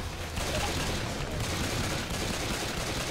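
Sustained gunfire and dense shooting from the Left 4 Dead 2 zombie video game, a steady loud barrage filling the whole moment with no pause.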